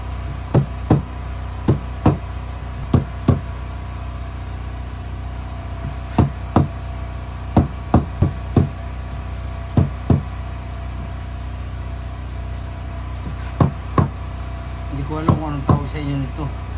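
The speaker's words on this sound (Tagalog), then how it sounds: "Pinupukpok ko na dito sa amin ito para mas marami siyang katas." Repeated hard knocks of an ingredient being pounded to extract juice, sharp thuds in uneven bursts and pairs over a steady background hum, fairly close and loud.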